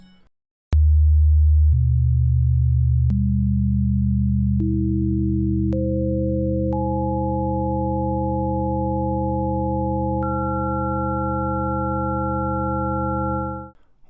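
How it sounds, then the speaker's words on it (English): Seven pure sine tones on a phi-ratio scale enter one by one at staggered intervals and stack into a sustained, clean chord, each new pitch higher than the last, loud and steady until a quick fade at the end. "When we hear 7 Phi tones, there is no harmonic distortion between the tones."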